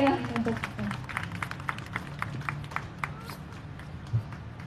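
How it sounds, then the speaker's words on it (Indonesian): An audience applauds at a public gathering with fairly soft, steady rapid clapping that lasts the whole stretch. A voice rises briefly at the start. "Boleh kasih semangat, tepuk tangan yang meriah."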